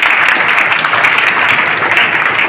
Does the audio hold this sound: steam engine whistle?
no